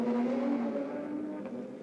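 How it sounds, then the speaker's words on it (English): The number 15 UBS Porsche race car heads out onto the Interlagos circuit during qualifying, a brief engine drone that fades slightly as it moves away, with no talk over it. "Leonardo Sanchez's UBS car ventures out onto the circuit, the number 15 Porsche"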